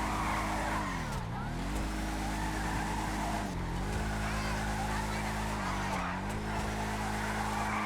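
A Bravado Gauntlet Classic Custom muscle car drifting through the streets of Los Santos in GTA 5, its loud engine roaring steadily as tires squeal in repeated long skids, with a voice faintly under the noise.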